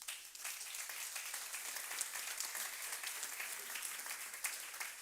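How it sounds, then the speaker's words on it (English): An audience at a smart grid summit applauds roundtable panelists, dense steady clapping from a sizeable room, even and sustained with no talk over it. "Join me for a round of applause"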